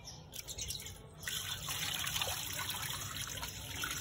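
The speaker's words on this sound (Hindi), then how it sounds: "फोम बनाने के लिए हम ये पानी डाल लेते हैं।" Water pours and trickles steadily into a container to make shampoo foam, a continuous close splashing stream that grows fuller after the first second, with no talk.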